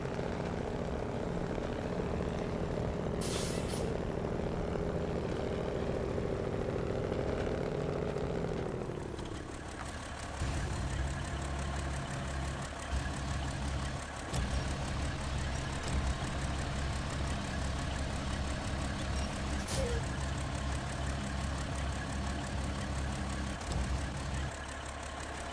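A Kenworth truck engine in SnowRunner drones steadily throughout, with a shift in its pitch partway through as it settles into a low, continuous rumble with small clunks.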